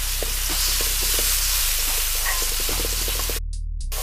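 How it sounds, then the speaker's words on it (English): Garlic sautés in two tablespoons of cooking oil over medium heat, giving a steady, close crackling sizzle with scattered small pops and the odd stir, then cutting off sharply near the end. "2 tablespoons of cooking oil under medium heat. Then you add in the garlic. Saute the garlic until it's fragrant."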